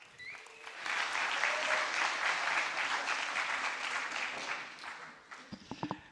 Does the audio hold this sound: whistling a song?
no